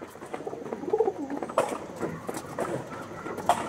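Chennai-breed pigeons coo in a few soft, rolling calls close by, with a brief louder burst near the middle and another toward the end, no voices present.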